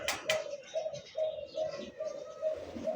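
A young red Lahori pigeon coos nearby in a series of soft, repeated low coos spaced evenly through the clip, after a brief sharp sound at the start.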